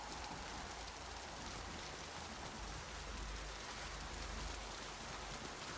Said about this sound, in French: Ah, de la pluie, Tain.